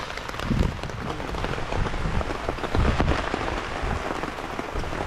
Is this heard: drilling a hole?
no